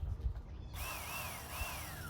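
A Bubba electric filet knife switches on and runs, a smooth, fairly quiet motor whine with reciprocating blades that holds steady after a sudden start.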